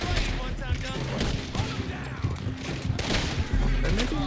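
Dense gunfire rattles through a Red Dead Redemption 2 shootout, with rapid overlapping shots, clanks and booms crowding together in a continuous, busy clatter.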